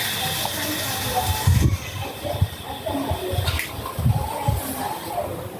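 Water gushes and hisses steadily from a pipe or tap, with bursts and gurgles as air clears, under occasional voices.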